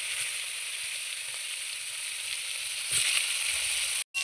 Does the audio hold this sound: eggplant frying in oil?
yes